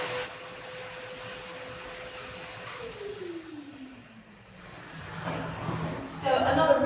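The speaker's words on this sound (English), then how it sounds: "we've got this wet to dry hoover, brilliant product, and that's, we're going to literally suck out the very last bit of the water" A wet and dry vacuum whines steadily while sucking the last water out of a dog hydrotherapy treadmill; its tone drops as the load changes, then a louder gurgling rush builds toward the end.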